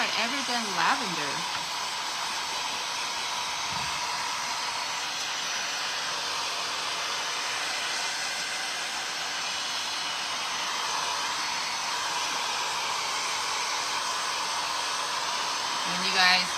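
A heat gun used for painting craft jars in pink and lavender blows with a loud, continuous hiss close by, with a brief voice at the start and end.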